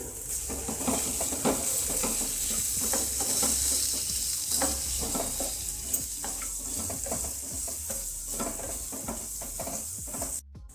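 Potato dosa filling stirred in a hot pan over a tempering, with steady sizzling and frying under repeated scraping strokes of a spoon, close and fairly loud, ending abruptly.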